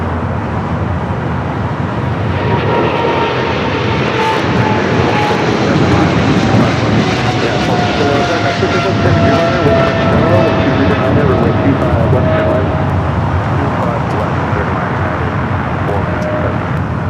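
A United Boeing Dreamliner jet runs its engines on runway 25 right at Los Angeles airport before takeoff, a loud sustained roar with a slowly sliding whine, close and constant across the whole stretch.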